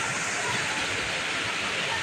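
A waterfall at a resort in Timoga, Iligan City, Philippines roars as a loud, steady, close rush of falling water with no breaks, and nothing else stands out above it.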